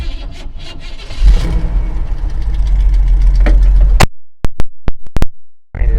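A 1977 GMC/Chevy Stepside squarebody truck engine turns over and catches, settling into a loud, rough idle up close, then cuts off abruptly, followed by a few sharp thumps and a quiet stretch.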